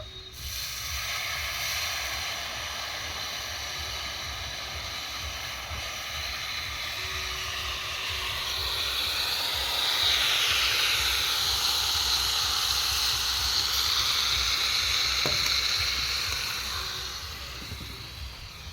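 Jaggery and water boil in a pan with a steady, close hiss that grows slightly louder halfway through and holds for the full length, with no talking.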